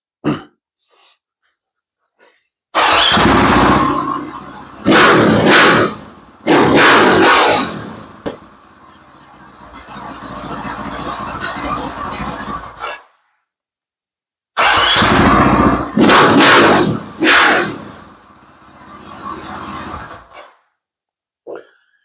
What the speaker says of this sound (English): I'm going to start this bike up. You'll get to hear how loud it is now with nothing in it.